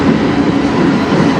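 A CN train rolls past on the rails with a loud, steady, close rumble and rattle of wheels that continues throughout.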